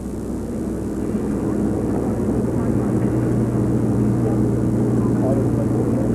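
A MiG-29UB two-seat jet fighter trainer in flight, giving a steady, continuous engine roar that holds at an even level throughout, with no breaks or distinct passes.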